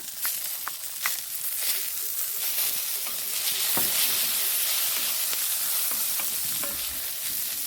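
Pirandai (adamant creeper) frying with onions in a pan for chutney, a steady close sizzle with scraping stirs and occasional sharp spatter pops throughout.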